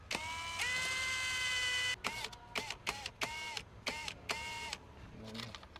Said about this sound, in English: and drill your hole.